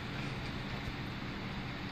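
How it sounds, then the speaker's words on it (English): A four-car local train runs along the track in a steady, broadband rumble and rush of wheels that stays close and unbroken throughout, with no talking. "4-car local on the backside"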